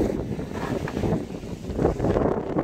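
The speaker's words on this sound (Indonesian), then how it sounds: "Jadi anginnya kencang banget" Strong wind blows by the water where boats cross, buffeting the microphone in uneven gusts of low rumbling noise, with no voices.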